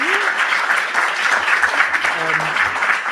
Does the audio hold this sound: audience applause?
yes